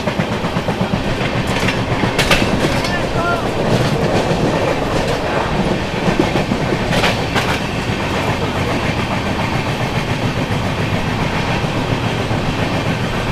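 Poorva Express 12303 running on rails with a steady, loud rumble and clickety-clack of wheels over joints, interspersed with brief rattles, continuous throughout.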